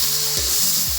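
Chopped tomatoes frying with onions in a pan, a loud, steady, close hissing sizzle with a faint tonal sound gliding beneath it.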